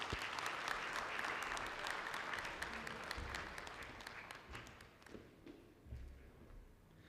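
Conference audience at an oncology meeting in Pakistan gives a round of applause, dense at first, then thinning into scattered claps and fading out.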